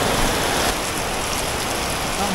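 A torrential downpour over a market in Nha Trang makes a loud, unbroken roar of rain striking roofs and pavement nearby, with no talking.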